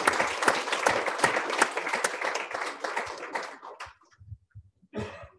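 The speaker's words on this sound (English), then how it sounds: "Let's give another round of applause." An audience at the MS Evening of Hope benefit applauds in a dense, lively burst for nearly four seconds, then thins to scattered claps and a short, faint sound near the end.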